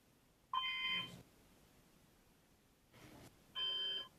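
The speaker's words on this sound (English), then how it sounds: "The fire alarm is going off" A fire alarm sounds in sharp bursts: an electronic tone sounds twice with a fainter buzz between, loud against a quiet room with no talk.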